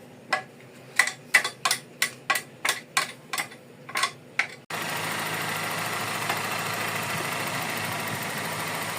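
A Toyota GLI with a 4AFE engine idles roughly: about a dozen uneven knocking pulses, loud and close, then a steady, dense engine drone carries through to the end.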